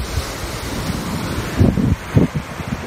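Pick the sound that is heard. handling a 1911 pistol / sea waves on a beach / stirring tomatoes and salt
sea waves on a beach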